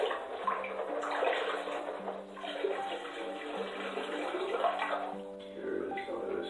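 Water sloshing and swirling in a gold pan while metal-detecting finds are washed down, a steady close splashing wash with rhythmic surges and no clear break.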